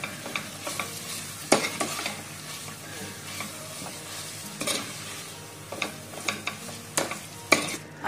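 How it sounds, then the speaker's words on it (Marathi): Boiled potato mashed into chicken mince in a pan, repeated scraping and pressing strokes of a spoon over a low, soft sizzle, with uneven bursts of louder clatter. "आता यामध्ये आपण बॉईल केलेलं बटाटा स्मॅश करून टाकतो"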